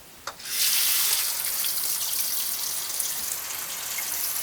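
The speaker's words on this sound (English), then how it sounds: "shower these guys with cold water to stop the cooking process" Cold tap water pours steadily over littleneck clams in a strainer, a constant rushing hiss that starts with a small knock and runs unbroken, close and moderately loud.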